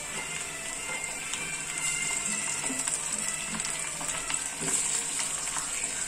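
Chopped tomato sautés with onions in a pan for sundakkai puli kulambu, giving a steady bright frying sizzle with scattered light scrapes and stirring ticks throughout.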